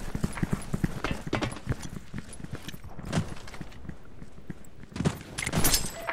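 Enemy footsteps running in the online shooter S.K.I.L.L. Special Force 2, heard as irregular bursts of quick thudding steps, some nearer and louder, separated by brief quieter gaps.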